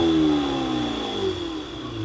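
Stock exhaust of a 2025 Lamborghini Temerario revving hard in sport mode, a loud, close engine roar with a steady rising and falling pitch that holds for about two seconds without any talk.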